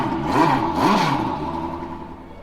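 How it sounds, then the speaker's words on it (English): A recorded Porsche RS Spyder race engine plays from speakers at a museum booth, revving twice in quick, rising snarls before settling into a fading, steady drone. "This is the Porsche RS Spyder sound."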